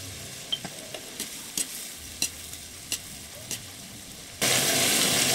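Mixed seafood, including crab, browning in butter and garlic in a pan: a few sparse, faint crackles and pops, then a loud, steady, full sizzle that surges in near the end and carries on.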